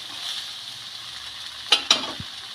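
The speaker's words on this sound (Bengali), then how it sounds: "খুব ভালো করে মশলাগুলোর সাথে মিক্স করে নেব।" A vegetable mixture for vegetable chop is stirred with spices in a frying pan, giving a steady close sizzle with a couple of sharp scraping clacks of the spoon near the end.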